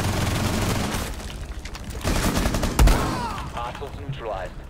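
Shotgun blasts and other gunfire in Rainbow Six Siege, a dense run of loud shots with one sharp heavier boom near the middle, while voices talk over it.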